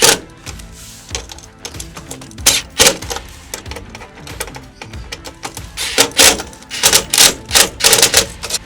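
Ladder mount hardware bolts being tightened on a RAM ProMaster van, heard as a quick series of sharp mechanical clicks and ratcheting taps in uneven bursts, close and fairly loud.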